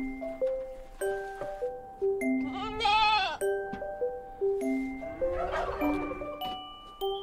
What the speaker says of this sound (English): This is a herd of goats.